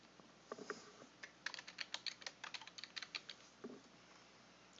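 A title is typed on a computer keyboard in quick bursts of soft, close key clicks, a steady patter with brief pauses and no talking.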